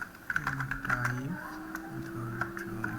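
Computer keyboard typing in quick irregular clicks, steady and close, running under a person talking while demonstrating a coding task.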